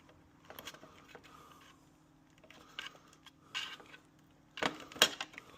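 Push-in plastic securing clips pulled one after another from the fairing of a Yamaha MT-10 motorcycle, giving a few short, faint snaps and clicks spread through otherwise quiet handling noise.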